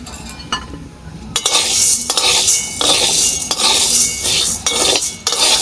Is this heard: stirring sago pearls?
yes